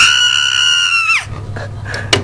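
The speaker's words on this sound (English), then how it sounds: "her jaw drops open and she screams at the top of her lungs" A woman lets out one long, loud, sustained scream that breaks off abruptly, followed by a few faint knocks and shuffles in a dramatized Demon Lover story.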